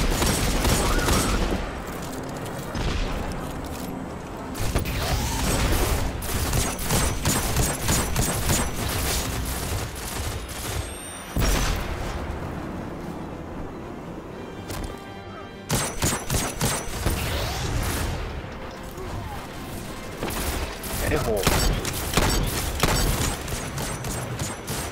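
Gunfire and grenade launcher shots in a multiplayer shooter game, dense bursts of rapid shots and booms in near-continuous fusillades, loud and close, with brief gaps and faint voices underneath.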